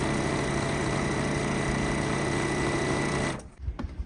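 A sewing machine runs in a steady, fast continuous whir while stitching quilt fabric pieces for quarter square triangle blocks, then stops abruptly, leaving a few soft handling clicks.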